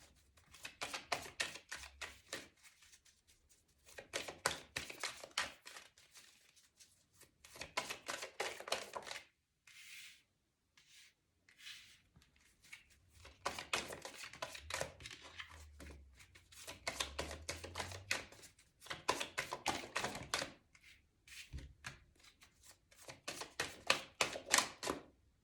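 Oracle cards are shuffled by hand in repeated bursts of crisp, rapid riffling clicks, broken by short pauses, close and fairly quiet with no talking.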